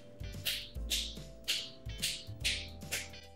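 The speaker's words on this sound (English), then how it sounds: "You shouldn't get any dried out markers so long as you click your cap shut." Repeated clicks of a marker cap being snapped shut, six sharp plastic taps in an even rhythm, close and fairly quiet, with no talking.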